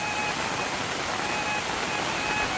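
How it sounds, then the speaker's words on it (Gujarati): Heavy rain pours steadily near a hilltop Mahadev temple, a dense, loud, unbroken hiss of falling water with no voices over it. "જો કેટલો વરસાદ વરસી રહ્યો છે."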